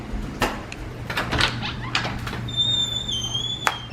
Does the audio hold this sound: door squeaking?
yes